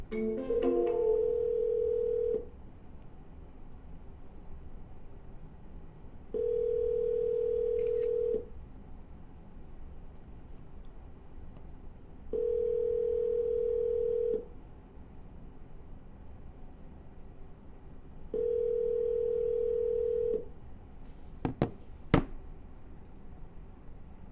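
A telephone ringback tone sounds while calling a motivated seller about a real estate wholesale deal: four steady, even rings about two seconds long, spaced by pauses, followed by a couple of faint clicks.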